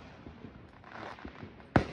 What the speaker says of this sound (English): There's a fireworks.